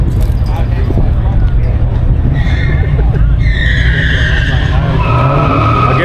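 A Volkswagen Golf hatchback races down a drag strip at a Hot Rod Power Tour event: loud, close tire and engine roar with a squealing skid, while a commentator talks over it.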